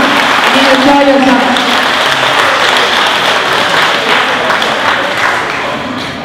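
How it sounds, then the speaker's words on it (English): An awards-ceremony audience claps for a Corvette giveaway winner with loud, sustained applause, thick and continuous, tapering slightly near the end, with a voice briefly audible at the start. "a big round of applause"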